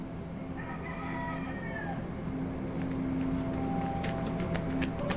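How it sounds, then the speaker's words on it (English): Roosters crowing in the background behind a quiet indoor setting, one drawn-out crow early on followed by further crowing, moderately distant and fairly faint, with no talking. "The roosters are very much engaged right now, and I apologize if you hear that so loud."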